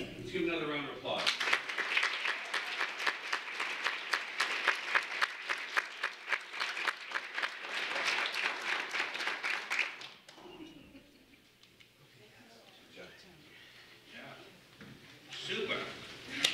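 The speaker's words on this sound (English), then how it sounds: "another round of applause." Audience at a public action meeting breaks into brisk, close clapping for about ten seconds, then fades to scattered claps and murmuring voices before a short burst of clapping returns.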